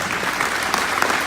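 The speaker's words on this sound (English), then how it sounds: "Give her a round of applause." Brief, dense burst of audience applause at a live performance in Gardnerville, Nevada, steady clapping filling the whole moment with no talk.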